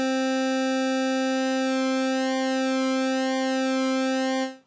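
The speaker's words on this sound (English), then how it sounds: "So we're getting some subtle pulse width modulation there." Sustained synthesizer tone from the u-he Diva plugin with subtle pulse width modulation, a steady bright buzzy note whose upper harmonics slowly shimmer and sweep before it cuts off at the end.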